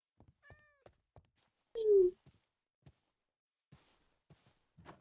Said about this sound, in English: I hear so much meowing and barking during the day because of all of our pets